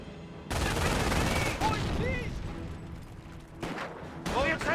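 Sustained bursts of MG42 machine gun fire and other gunfire from a Company of Heroes battle, loud and continuous through the clip, with brief swells of heavier shooting and mixed in-game voices.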